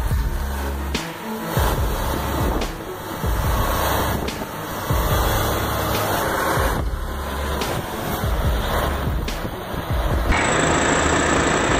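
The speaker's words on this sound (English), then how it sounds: "The K700 stormed through the river with raw, primal power" A K700 tractor pushes through a river, its heavy engine roaring loudly and continuously with surging, splashing bursts throughout.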